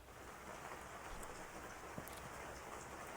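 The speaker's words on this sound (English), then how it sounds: "Suddenly, a heavy rain began to fall" Heavy rain in a Doki Doki Literature Club mod is a steady, hissing downpour with scattered drop impacts. It is faint and continuous, with no talking.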